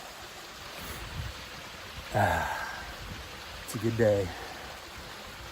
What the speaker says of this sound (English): Here's another part of the stream coming at us.